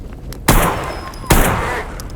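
Two heavy booming blasts from an explosion in the video game Stalker GAMMA, loud and close, each with a rumbling tail fading out, about a second apart.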